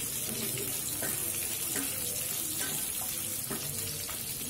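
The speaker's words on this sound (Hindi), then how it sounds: "अब हम इसमें प्याज डाल देंगे।" Sliced onion frying in a pan, a dense, even sizzle close by with a few faint utensil clicks scattered through it.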